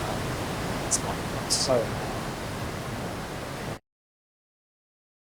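Steady, broadband rushing of a waterfall sound effect played from a Unity audio source, even and continuous for under four seconds before cutting off abruptly to silence, with a couple of faint clicks and a brief spoken phrase.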